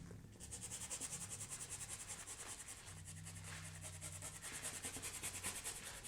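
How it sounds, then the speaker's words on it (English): A brush scrubs blue oil paint glaze into a canvas in quick, rhythmic back-and-forth strokes, a faint, close, steady rubbing scratch. "So see how I'm scrubbing the glaze in?"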